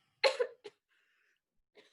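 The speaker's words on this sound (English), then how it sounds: "lets out a small cough" A single small cough, close and distinct, with a brief second catch of breath after it, then near silence and a faint sound at the end.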